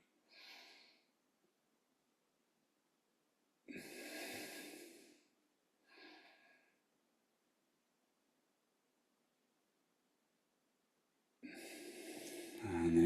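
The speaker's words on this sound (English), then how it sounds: "Breathing in through the nose and out through the nose." Several separate breaths drawn in and pushed out through the nose during a morning yoga session, breathy and close, spaced by long silences, the last exhale longest and loudest.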